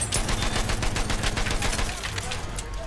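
Sustained rapid machine-gun fire in Battlefield 1, loud and close, a steady stream of shots that thins slightly toward the end.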